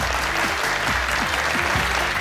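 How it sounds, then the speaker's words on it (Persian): Studio audience on a Persian family-feud style game show clapping steadily, a dense continuous wash of applause filling the whole moment. "دوستا تشویقشون کنیم"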